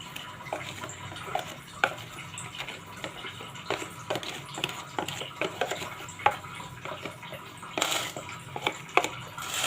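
Sponge cake batter pours into a flour-dusted baking pan, a soft continuous wet flow with scattered light taps and knocks against the tin, close up and without talk.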